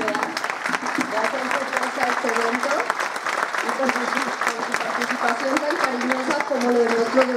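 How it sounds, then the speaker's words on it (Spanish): Audience applause fills a tribute evening honoring a doctor, a steady, dense clatter of many hands with tonal voices or sound carried over it the whole way through. "Pido un aplauso para Paco Moreno"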